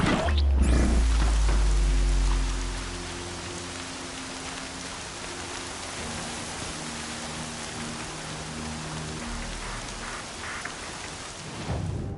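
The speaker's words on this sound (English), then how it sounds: "Raining like it's trying to wash everything away." Heavy rain pours steadily in the video game Horizon Zero Dawn, with a deep rumble of thunder at the start before the downpour hisses on alone.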